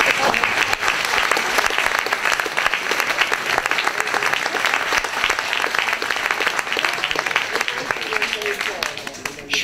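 Sustained theatre audience applause fills the space throughout, dense and steady, with a few voices mixed in under the clapping and a slight tailing off at the very end.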